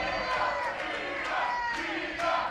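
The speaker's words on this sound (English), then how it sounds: "Crowd is fully behind Nina" A crowd at a women's wrestling event cheers and roars continuously, loud and dense with scattered shouts and whoops.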